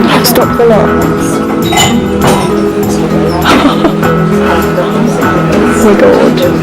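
Glasses fall and clink aboard a boat on the Thames, sharp little chinks and clatters scattered through a constant loud rumble of engine and water noise.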